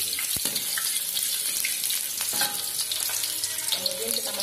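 Chopped shallots hit hot oil in a pan for Aceh-style noodles with tuna, giving a steady sizzle with scattered clinks and scraping, along with faint running-water noise in the background.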